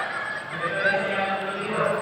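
A bird gives goose-like honking calls, a few nasal, hoarse honks close by over a steady background hum.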